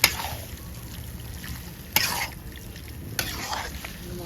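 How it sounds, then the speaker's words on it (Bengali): Chicken pulao masala is sautéed and stirred in a pan, giving a steady soft sizzle with a few sharper scraping knocks from the spoon, close by and moderately quiet. "আমি কষাবো একটু সময়,"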